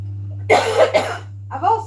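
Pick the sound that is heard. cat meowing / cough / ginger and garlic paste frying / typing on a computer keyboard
cough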